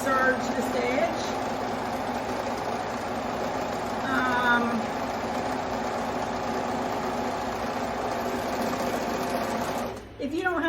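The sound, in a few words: serger overlocking the edge of a knit shirt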